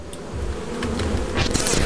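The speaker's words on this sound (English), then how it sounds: "I got bees, I'm running." Insect-like buzzing from a bee swarm in the video game Lethal Company, a steady close drone that swells louder and brighter toward the end.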